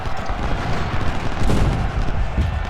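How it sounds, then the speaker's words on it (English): Cannon artillery fire in the video game Ultimate General: Civil War, a dense, continuous rumble of booms and crackling volleys, loud and steady throughout with no pause. "Oh, those cannons devastated them."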